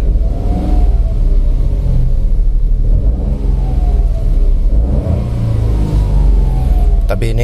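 A small LCGC car engine fitted with a shorter aftermarket intake rumbles and revs up toward high RPM, loud and close, with steady engine drone running underneath throughout.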